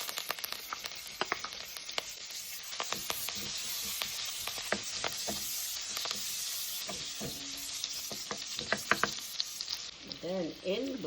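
Garlic, pepper and thyme frying in a pot for Jamaican ackee and corned pork, a loud, constant hissing sizzle with occasional spoon scrapes and clinks as it is stirred.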